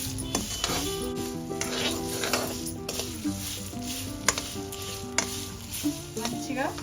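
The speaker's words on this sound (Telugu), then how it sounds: "దోరగా వేపుకోవాలి. ఇవి 100 గ్రామ్స్ ఎండుమిర్చి కలుపు మాడనివ్వద్దు." Dried red chillies with salt dry-roasting in a pan for a bitter gourd pickle give a steady, close sizzling crackle. A spoon scrapes and stirs against the metal with occasional clinks, and no voice is heard.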